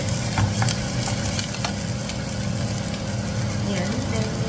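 Onion and garlic fry in a pan with a steady, close sizzle and crackle, broken by a few sharp pops and light stirring scrapes from start to finish.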